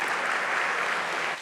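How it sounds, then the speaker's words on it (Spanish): Audience applauding after a talk at a PUCP AmpliTalks event: a full, steady burst of clapping from a crowd that thins and fades out right at the end, with no talking over it. "Fuertes las palmas para Laila Hirsch."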